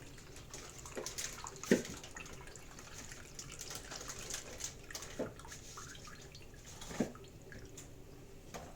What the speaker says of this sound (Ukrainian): і ось так заливаємо тим маринадом.